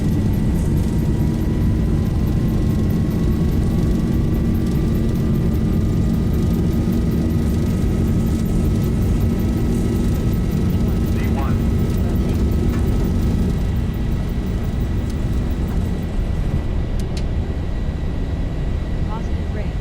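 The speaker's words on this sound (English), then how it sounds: "Nice lazy takeoff." Boeing 737 jet engines in a flight simulator game hold a steady, loud roar through a takeoff roll, with a faint rising whine and a few brief clicks, while a voice talks over it.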